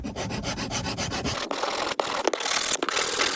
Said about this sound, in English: we're going to take a small file and we're just going to file away all the excess rust so that this locking pin can free itself within the mechanism